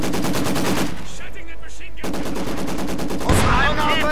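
Rapid machine gun bursts in a WWII strategy video game, loud and rhythmic, broken by a short pause and then resuming over game effects and a louder blast near the end.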